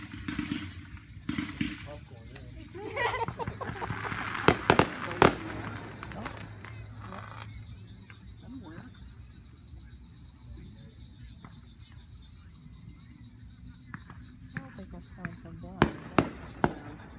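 Fireworks going off in Lincoln, Missouri in 2015, sharp distant-to-mid bangs and crackling bursts scattered across the clip, with people's voices and faint background noise in between.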